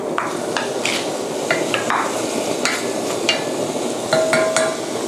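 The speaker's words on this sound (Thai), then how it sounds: "อย่างแรกก็คือใส่สับปะรดลงในหม้อนะคะ" Pineapple is stirred and cooked in a pot for pineapple pie filling, with repeated scraping and clinking of a utensil over a soft sizzle.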